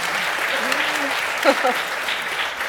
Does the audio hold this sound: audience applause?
yes